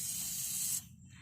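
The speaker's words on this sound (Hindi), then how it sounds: "आपको अच्छे से इस प्रकार से इस पे स्प्रे करना है" WD-40 hisses from an aerosol can onto the clutch area of a Tata Nano, one steady close-up spray burst of nearly a second that cuts off abruptly, leaving a quiet low hum.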